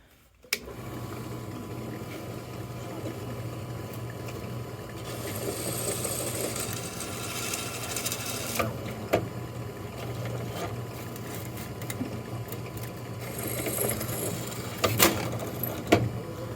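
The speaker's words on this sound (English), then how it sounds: "we're going to drill this guy and this guy out to a 1/8 inch" A steady motor hum from a drill, rising twice into louder bursts of high grinding as a 1/8 inch bit cuts into a metal plate for a TH350 transmission.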